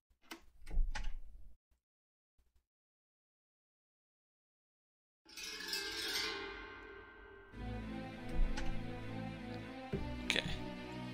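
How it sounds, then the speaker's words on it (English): A door opening in The Mystery Files of Detective Inaba video game, with a few sharp clicks, then a pause before a sliding, creaking rumble that carries into a sustained mechanical hum with taps. "I guess I have to go in the door."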